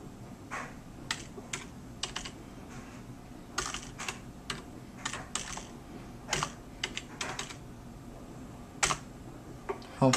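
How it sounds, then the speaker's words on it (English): Keys on a computer keyboard clack in uneven bursts and single taps while a name and password are entered at a command prompt, close and moderately quiet, with pauses between strokes and no talking. "now I'm gonna type in the name"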